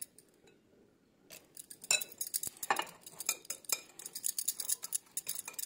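A metal spoon clinks and scrapes against a bowl while stirring almond milk into mango cake batter, starting after a quiet second and continuing in quick, irregular close-up taps and swirls with no voice.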